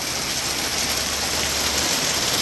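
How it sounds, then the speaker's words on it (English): Pea-sized hail pelts down during an April hailstorm in Seattle, a dense, continuous rattling hiss of many small impacts, loud and unbroken, with no talking. "We're not supposed to get hailstorms like this in Seattle."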